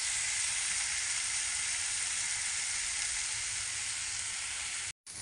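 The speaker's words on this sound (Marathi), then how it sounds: "आता आपला कांदा फ्राय होतो." Chopped onion with turmeric frying in a pan for breakfast, giving a steady, close sizzle and hiss that runs without a break, with a very short cut near the end.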